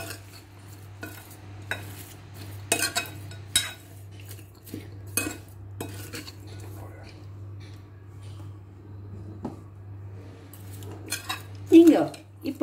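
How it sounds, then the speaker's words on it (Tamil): A spoon scrapes and clinks against a bowl while curd is stirred into banana stem raita, with irregular clatters over a steady low hum. "அதுக்கப்புறம் தயிர் சேர்த்து ஒன்றா கலக்கலாம்."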